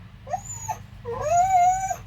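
A dog whimpers nearby, a short high whine followed by a longer drawn-out one over a low background hum.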